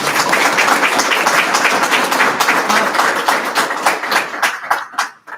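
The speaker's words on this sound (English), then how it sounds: "Let's have a round of applause for our candidates." Applause from an audience at a hospital board candidate forum, a dense sustained wash of many hands clapping that thins into scattered separate claps and fades out near the end.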